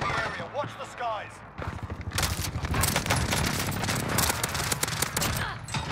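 Call of Duty Warzone Plunder match with airstrike explosions and dense gunfire, a sustained loud barrage of rapid blasts and shots building after a quieter opening, with a voice speaking over the start.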